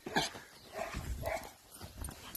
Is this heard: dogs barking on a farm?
yes